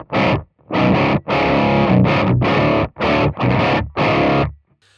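A dry, clean-channel electric guitar through an AI amp sim plays ringing chords in short bursts with abrupt stops between them, close and loud with no reverb or delay.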